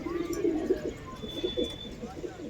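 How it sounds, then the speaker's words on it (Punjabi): Tournament racing pigeons coo softly in low, throaty bursts, several overlapping calls close by, with faint background noise. "ਇਹ ਕਬੂਤਰ ਜੀ ਇੱਕ ਹੈ ਕਬੂਤਰ"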